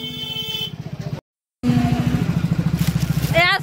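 A motorbike carries riders along a rural road with a loud, close, pulsing engine chug. A short dropout breaks the sound, and a horn-like tone comes in near the end.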